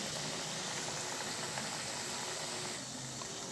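Murukku made from ration rice and butter fries in hot oil, giving a steady dense bubbling hiss that stays even and close with no break, alone without talk.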